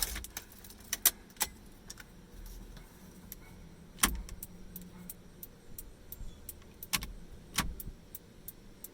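Keys jingle and click into the ignition of an NA Mazda Miata, a series of close, sharp metallic clinks and taps scattered over several seconds against a quiet interior.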